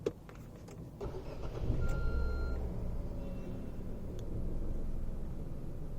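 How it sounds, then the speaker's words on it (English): Nissan Magnite turbo petrol engine starting and settling into a quiet, steady idle, heard from inside the cabin with a short start burst followed by a low continuous hum. "at idle this engine is barely audible when you wind up all the windows"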